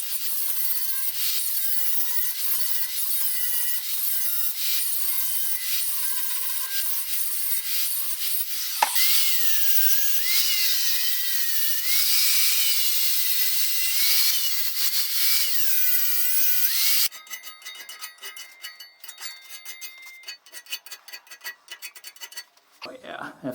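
Flap disc on an angle grinder blending and smoothing a welded metal and wood corner shelf: a steady, loud abrasive whir with shifting pitch as pressure varies, close up, then breaking into choppier rubbing and scraping toward the end.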